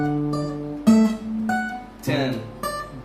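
Two guitar notes, a bass-string note on the low E with another note, ring out together on fingerstyle guitar, struck a few times in a row with sustained harmonic tones, close and clear with no talking.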